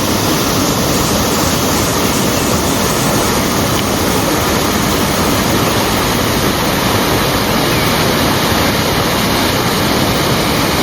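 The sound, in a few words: Mini Devkund waterfall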